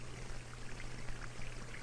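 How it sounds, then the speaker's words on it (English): Water runs steadily down a small model stream canyon toward a reservoir, a soft continuous trickle and splash over a low steady hum. "The water running down the canyon represents the normal flow of the stream."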